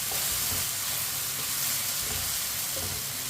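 Onions cooking in a pan for a pyaz ki sabzi, a loud continuous sizzle and hiss of frying with faint stirring scrapes, close up and without speech.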